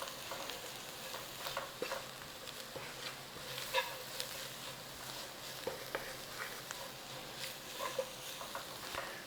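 Chopped onion and garlic fry in a hot pan as the base for a cheap curry, a steady soft sizzle with occasional stirring scrapes and clicks, close by and moderately quiet.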